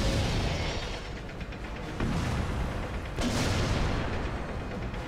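In World of Tanks, a tank fires a large-calibre derp gun, producing heavy booming blasts over a dense rumbling battle background, with a sharp report around the middle and another shortly after.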